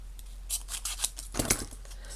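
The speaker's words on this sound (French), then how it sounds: "Ça fait un petit peu escalier, donc on va limer tout ça" Short rasping strokes of a file against stacked, glued paper or cardboard layers, several quick scrapes close up and fairly quiet, with no voices.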